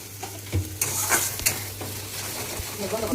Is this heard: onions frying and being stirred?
yes